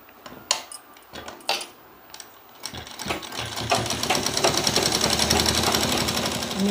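A sewing machine runs steadily on a folded cloth strip for a baby's nappy, starting after a few scattered clicks and handling knocks, then settling into a continuous close, rapid mechanical stitching rhythm.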